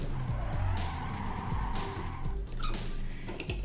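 Honda Civic Type R in a driving simulator game as the handbrake goes on, engine droning with a rising tire skid and squeal that fades and returns, loud and close with no talk.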